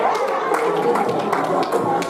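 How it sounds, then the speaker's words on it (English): Guests at a charity gala dinner break into steady applause, a dense patter of many hands clapping close by, with voices mixed in. "Give yourselves a round of applause."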